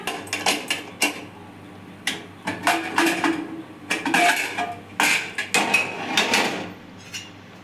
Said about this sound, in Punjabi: ਆਪਾਂ ਕੁੱਕਰ ਵੀ ਖੋਲ ਕੇ ਦੇਖ ਲੈਣੇ ਆ